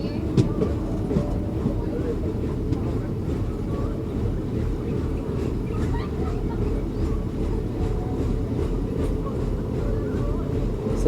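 Steady low rumble of a Pongal festival special passenger train from Bangalore to Madurai moving along railway tracks, continuous and fairly loud throughout, with faint clicking from the rails.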